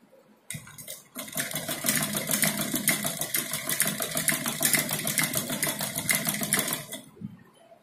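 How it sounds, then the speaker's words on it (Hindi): A sewing machine runs a straight seam on a designer sleeve, a close, fast, even rattle of stitching that starts sharply, holds steady for several seconds, then stops, with no talk. "इसकी यहाँ पर पूरी एक सीधी सिलाई लगाएंगे"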